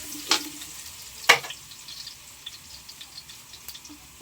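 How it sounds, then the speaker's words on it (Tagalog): Onions are tipped into hot oil left from frying garlic for a seafood mix in batter. Two sharp clatters ring out over a soft, steady sizzle, followed by faint intermittent stirring taps. "Lalagay na po yung sibuyas."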